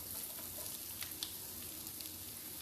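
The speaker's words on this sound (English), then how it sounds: "sometimes when the pan gets to frying, I have to elevate my voice" White onions fry in a pan with a steady, dense sizzle and crackle throughout, close and even, with a few small pops and no one speaking.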